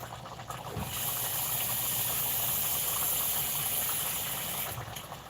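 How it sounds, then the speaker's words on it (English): Water coming to a boil in a pot for fufu gives a steady, fairly close hiss and rush for about four seconds, then fades, with no talking. "So I'm just going to boil the water."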